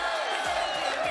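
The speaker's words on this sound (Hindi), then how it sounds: "हाथ उठा के तालियों की गूंज पे बताइए कितना प्यार करते हैं इमरान खान से आप" A large outdoor PTI rally crowd in Multan cheers and claps in a steady, dense roar that fills the whole moment, loud and continuous without pauses.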